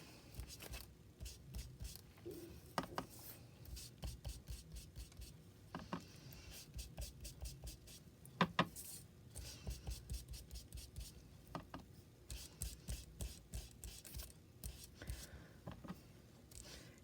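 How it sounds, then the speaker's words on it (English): A coloring tool rubs across a paper die cut up close and quietly, in quick scratchy strokes that come in bursts with brief pauses between, no voices. "And I'm just going to color my die cut."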